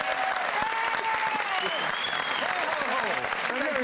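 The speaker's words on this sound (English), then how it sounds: "we have a round of applause for Jim Keays," Studio audience of a Christmas TV quiz show applauding for Jim Keays, steady lively clapping with cheering voices and whoops rising over it throughout.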